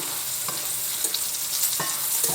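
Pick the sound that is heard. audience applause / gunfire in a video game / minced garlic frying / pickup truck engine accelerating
minced garlic frying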